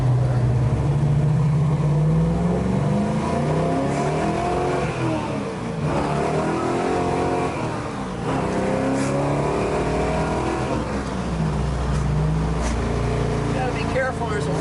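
A 1969 Chevrolet Camaro RS with a 454 V8 drives close up, its engine note climbing and falling as it revs through the gears with a steady, strong rumble.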